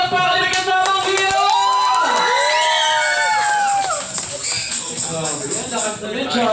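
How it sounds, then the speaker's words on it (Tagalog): A crowd at a children's birthday party cheers, shouts and whoops loudly and close by, with excited children's voices rising and falling throughout. "Okay, one more, isa masigabot palakpak!"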